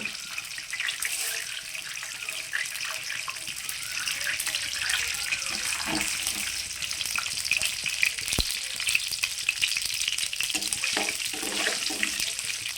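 Cumin seeds, urad dal and chana dal fry in hot oil with a dense, continuous sizzle and crackle, close and steady throughout, with occasional stirring knocks and no talk.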